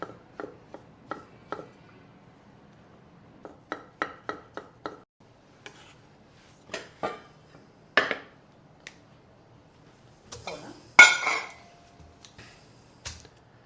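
A knife slicing mushrooms in half on a cutting board, making crisp, close taps in quick rhythmic runs, with a few louder chops and pauses in between.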